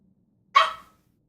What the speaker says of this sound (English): His bark can be heard really loud.